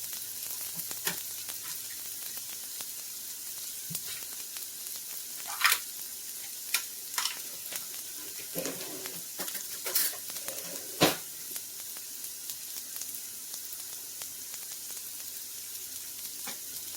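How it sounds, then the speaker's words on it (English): Mushrooms fry in a pan with chopped garlic added, giving a steady sizzle. Scattered utensil clicks and stirring knocks stand out, close and fairly clear, with no talking. "this is the point where I'm going to add some garlic to it."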